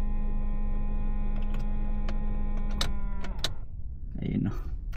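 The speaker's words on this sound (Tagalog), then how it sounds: "Ugong yung ano, yung sa side mirror." A car's electric side mirror motor gives a steady tonal whirring hum with a few ticking clicks, then cuts off abruptly, leaving softer rustling and handling noise.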